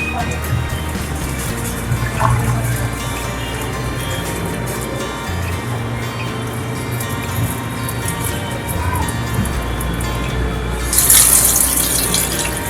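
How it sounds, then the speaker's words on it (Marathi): Water drains off boiled elephant foot yam, a steady pour and splash like a running tap into a sink, with a brief louder gush near the end and a voice talking over it. "तर आता आपण हे गाळून घेऊया पाणी."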